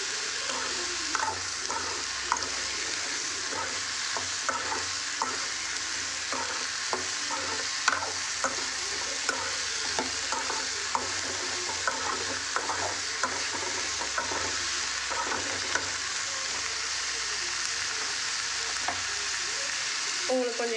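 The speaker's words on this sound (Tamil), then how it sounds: "வெங்காயமும் கத்திரிக்காயும் நல்லா வந்து வதங்கணும்" Onion and brinjal sauté in oil for brinjal thokku. A steady, close sizzle is broken by frequent scraping stirs of a spoon in the pan, continuous and without talk.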